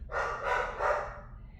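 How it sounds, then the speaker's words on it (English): A dog barking indoors in the background: three quick, somewhat muffled barks in a row, moderately distant and alone. "Sorry, that's my dog."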